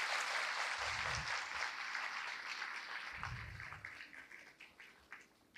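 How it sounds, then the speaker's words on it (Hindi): Applause from an audience at a chief minister's self-employment scheme launch for single women, a broad steady clatter of clapping that holds loud and then slowly thins and fades toward the end. "तालियों से स्वागत करें।"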